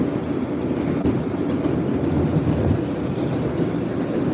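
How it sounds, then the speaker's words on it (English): An R68 G subway train rolls into the Coney Island yard with a continuous loud, low rumble and a steady wheel roar that holds evenly throughout. "R68 G train entering the yard."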